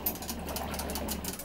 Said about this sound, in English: I'm gonna turn the speed up on this trolling motor notch.